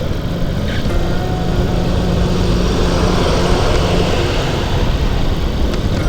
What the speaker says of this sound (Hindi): न्यू हॉलैंड का 4x4 ट्रैक्टर अच्छा बताया गया है।